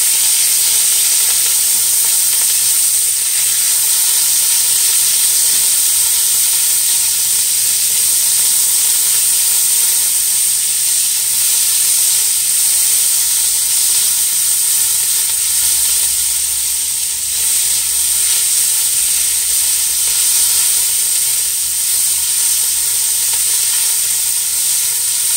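Garlic and onion sizzle steadily in a pan as the base for a slow-cooked curry stew with zucchini and mushrooms, a continuous bright hiss of frying that holds evenly throughout with no talking.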